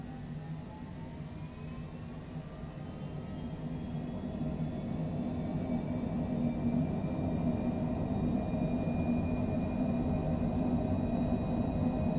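Engine roar of a Citation Longitude business jet on its takeoff roll in Microsoft Flight Simulator, a steady broadband rumble with a faint rising whine that grows slightly louder as the run builds, with no voices.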